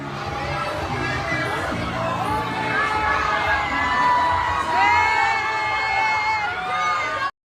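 A large audience at a showbiz event shouts and cheers, with children's high voices rising above the crowd in loud, continuous waves of whooping that swell near the middle and cut off abruptly at the end.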